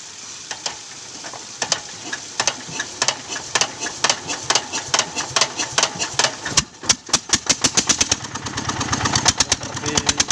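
A land tin-mining engine, the number 48 unit at a mine in South Bangka, cranked and then running: irregular mechanical knocks pick up into a fast, steady, loud chugging pulse with no talk over it.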